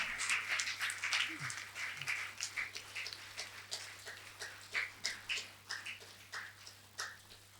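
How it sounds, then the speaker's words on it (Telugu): An audience clapping at a festival event in Vijayanagaram, with sharp, fairly rhythmic claps that start strong and gradually thin out and fade. "గట్టిగా చప్పట్లు కొడదాం."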